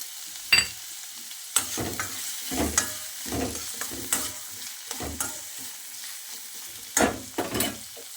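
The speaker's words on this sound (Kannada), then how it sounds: "ಇದಕ್ಕೆ ಎರಡು ಸ್ಪೂನು ಧನಿಯಾ ಕಾಳು ಚೆನ್ನಾಗಿ ಫ್ರೈ ಮಾಡ್ಕೋಬೇಕು" Coriander seeds frying in a pan for chicken sambar, with a spatula scraping and stirring in short bursts every second or so over a quiet sizzle, close and with no talking.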